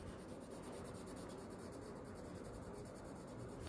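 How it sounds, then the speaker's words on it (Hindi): Pencil shades along the corners of a drawing on paper, a soft, continuous, close scratching rub with a steady rhythmic texture and no voices. "जैसे यहाँ पे मैं थोड़ी थोड़ी सी साइड्स में कॉर्नर्स पे शेडिंग कर रही हूँ खाली आउटलाइंस को हटाने के लिए।"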